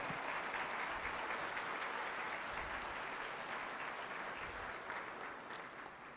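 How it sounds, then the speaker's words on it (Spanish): Audience applauding at a university lecture in Querétaro, a steady wash of clapping from a large room that fades slightly toward the end, faint and distant. "Un aplauso,"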